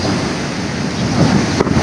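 Rough, angry sea in stormy weather: heavy surf roars loud and close, with strong wind buffeting the microphone throughout.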